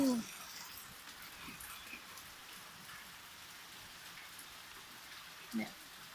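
Steady rain falls all day in a rural outdoor setting, a soft continuous hiss of drops with a faint voice and one brief dog-like sound.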